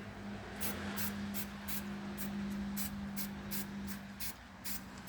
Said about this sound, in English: And you spray the bowl.